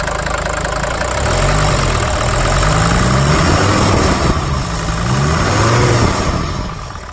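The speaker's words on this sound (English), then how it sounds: "We got a good healthy engine in this one." A healthy diesel engine in a Mercedes 300D runs steadily close by, a low chugging idle with a couple of mild revs rising and falling.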